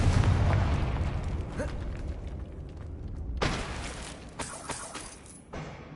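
Confringo fire blast spell from Hogwarts Legacy, a heavy rumbling boom that decays and is followed by a few sharper bursts and crackles, loud and close.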